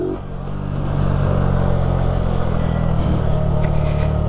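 A small Honda Biz 125 motorcycle revs hard and holds at high engine speed during a wheelie, a loud, steady buzzing drone close by with slight fluctuations and no talk.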